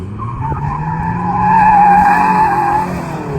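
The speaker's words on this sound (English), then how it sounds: "I absolutely love to slide my car" A stock SW20 Toyota MR2 on autocross tires slides through a turn, its tires squealing in a long, loud, rising and falling screech over the engine's drone.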